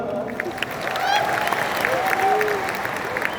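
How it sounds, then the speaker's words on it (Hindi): Small group clapping in a room, a short burst of applause with scattered cheers and voices talking over it. "ताली बजा दो यार"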